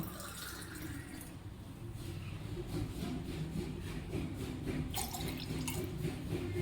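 About one and a half glasses of water pour steadily into a metal vessel while making orange-lemon mint lemonade, a continuous close splashing trickle with no talking.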